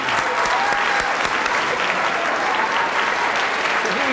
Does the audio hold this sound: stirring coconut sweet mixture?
no